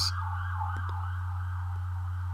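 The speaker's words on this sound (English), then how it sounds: "did you guys hear that? That was a police car." A police car or ambulance siren passing outside, a faint, steady wailing tone heard through a room over a constant low electrical hum.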